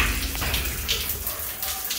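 Shower water running steadily in an apartment bathroom in Mérida, a continuous broad hiss and splash heard up close, with no talking.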